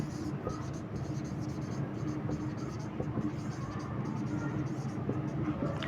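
Marker or chalk strokes on a board during a maths lecture on quadratic equations and complex numbers, scratching steadily at moderate volume against a background hum and faint traffic.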